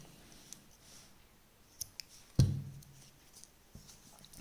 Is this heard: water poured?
no